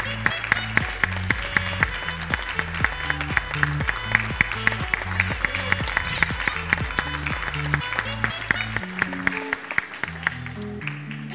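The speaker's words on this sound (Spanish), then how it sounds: "Fuertes aplausos para este egresadito." A crowd applauds a graduating kindergartner at a school graduation ceremony, with steady, dense clapping over background music throughout.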